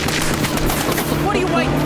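Rapid gunfire in a video game rattles in loud, continuous bursts like an automatic weapon, dense and close, filling the whole stretch, with a few brief tonal game effects near the end.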